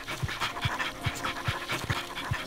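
Little dogs in the video game Nightmare Ned pant steadily in a quick rhythmic loop, close and fairly loud, with sharp regular breaths repeating about every half second.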